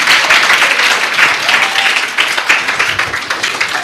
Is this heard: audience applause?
yes